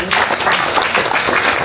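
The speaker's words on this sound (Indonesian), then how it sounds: "Tepuk tangan untuk Suster Tika." An audience at an eco print seminar breaks into a brief, dense burst of steady applause for a speaker, with a faint voice underneath.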